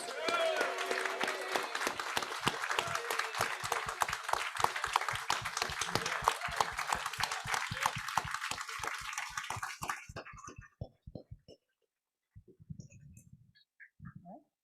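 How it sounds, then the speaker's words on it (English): A Rotary Club meeting audience applauds steadily for about ten seconds, then the clapping fades out to a few scattered claps and a brief burst near the end. "How about a big round of applause?"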